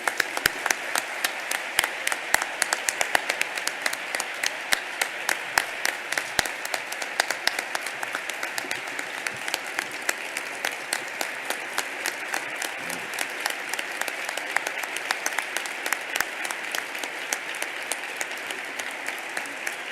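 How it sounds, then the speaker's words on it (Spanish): A conference audience gives sustained applause, dense rhythmic clapping that holds steady for the full twenty seconds, loud and close, with a few sharper individual claps standing out. "Y un aplauso, como a la Macarena el otro día."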